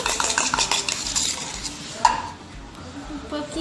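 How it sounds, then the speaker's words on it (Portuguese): Slime mixture is stirred in a bowl with a utensil, giving close scraping and clinking against the bowl in a quick irregular rhythm that fades toward the end, with faint voices in the background. "Estamos misturando."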